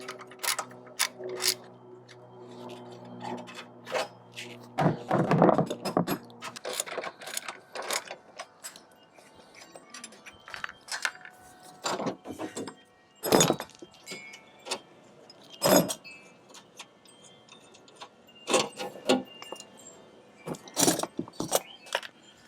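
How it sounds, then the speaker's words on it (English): Lawn mower wheels and axle being removed: intermittent metallic clanks, ratcheting clicks and jangling parts in close bursts, separated by quiet pauses, with a steady low hum at the start. "remove the wheels and then remove the height leveling adjustment and the axle here"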